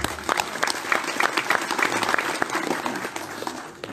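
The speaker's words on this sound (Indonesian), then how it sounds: "Tepuk tangan yang bareng" A crowd claps in a lively burst, individual claps audible at first, then thinning and fading out toward the end.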